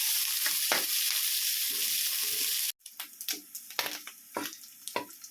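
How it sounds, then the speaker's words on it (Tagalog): Pork fries in oil in a pan with a loud, constant sizzle that cuts off abruptly partway through, followed by quieter scraping and stirring knocks with faint spitting, close up and without voices. "Haluin lang natin hanggang sa lumabas yung mantika."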